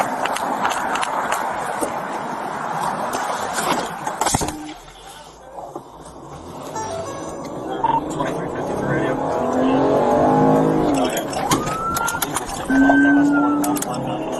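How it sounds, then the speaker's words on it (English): A car spins out during a police chase, engine roaring and tires scrubbing amid loud outdoor commotion, with excited voices talking over the noise. "Oh, he spun out."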